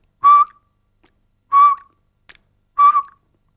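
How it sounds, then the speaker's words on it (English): Three short, clear whistled notes, each a brief pure tone, come from one person close by, spaced about a second apart in quiet, as a saxophone embouchure exercise. "What I want you to do is whistle and then smile and alternate this."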